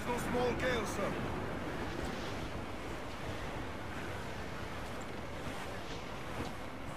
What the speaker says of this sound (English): That wind's no small gale, sir.